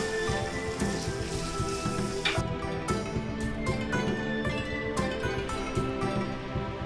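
Garlic and green chillies sauté in a pan for veg chow mein, making a dense, steady rain-like sizzle with fine crackles throughout, fairly close and with no voices.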